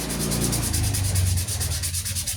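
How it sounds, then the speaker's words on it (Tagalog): Brisk back-and-forth light sanding with sandpaper on a motorcycle's front disc brake caliper, a rapid scratchy rhythm of short strokes, close and continuous. "Konting liha lang, hindi masyadong madiin."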